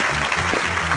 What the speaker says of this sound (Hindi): जोरदार तालियां और जोरदार।